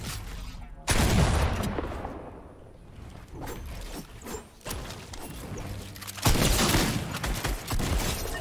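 Gunfire from a gun in Fortnite, loud bursts of rapid shots near 1 and 6 seconds with scattered single cracks and impacts between, close and punchy.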